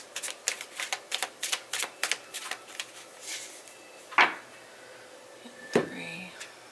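A tarot deck shuffled in quick papery bursts at close range, followed by a couple of sharper knocks and a brief voice near the end.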